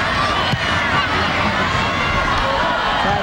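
A large stadium crowd at a women's professional soccer match, the 2002 WUSA Founders Cup, roars in a steady rising swell, loud and continuous, with a commentator's voice over it.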